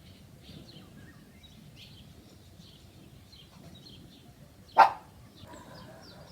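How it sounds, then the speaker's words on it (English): A single sharp dog bark rings out from a roof in rural Bulgaria, loud against a quiet outdoor background of faint birdsong and low rumble. "every now and again you just have a dog on your roof"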